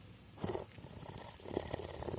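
A tawny owl gives soft, low purring trills in a few short bursts, very close and quiet, with no talking over them.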